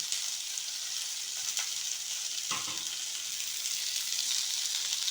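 Okra frying in a pan gives a steady, dense sizzle throughout, with a couple of faint stirring scrapes and no talk.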